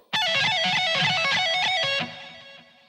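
Electric guitar plays a rapid, sped-up run of pull-offs and picked notes from a solo, a dense stream of bright notes for about two seconds before ringing out and fading, with no talking.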